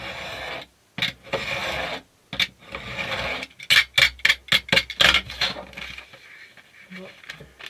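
A blade trims about a millimetre off the outer edges of a handmade cardboard booklet and sleeve, heard as a run of short, close scraping rasps in quick bursts, with quieter rubbing between them.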